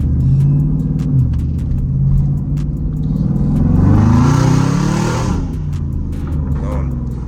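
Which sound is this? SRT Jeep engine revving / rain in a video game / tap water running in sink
SRT Jeep engine revving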